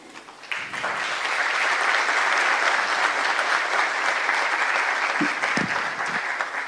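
An audience at an Internet governance forum applauds the panelists, a strong sustained round of clapping that swells quickly and holds steady, with a few brief voices near the end.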